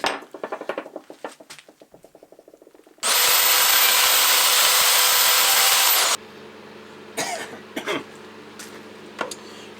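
A small brass plate is cut out, with about three seconds of quick rhythmic rasping saw strokes followed by a loud continuous power-tool whine for about three seconds, then a low hum with a few scattered knocks, close by.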